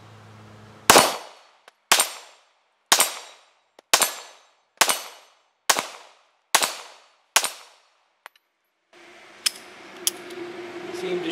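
Eight sharp gunshots from a 9mm Shield pistol loaded with .38 SWC bullets, fired at an even pace about one second apart, each a loud crack with a short decaying tail, followed by a few faint clicks and breezy outdoor noise.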